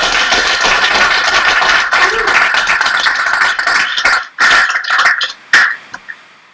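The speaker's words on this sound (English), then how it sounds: "give Tim a big round of applause." An audience at an InboundTO marketing conference applauds a speaker, a loud sustained wash of clapping that breaks up into scattered bursts and stops near the end.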